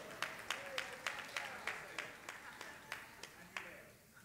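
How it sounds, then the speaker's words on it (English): Faint, scattered clapping from a congregation honoring a father, a dozen or so distinct claps in a loose rhythm, quiet and somewhat distant, thinning out toward the end. "Why don't y'all give him a round of applause?"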